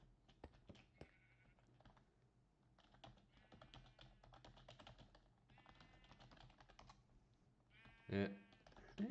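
Sheep bleating on a Minecraft sheep farm, several short wavering bleats scattered over keyboard typing, with one louder bleat near the end.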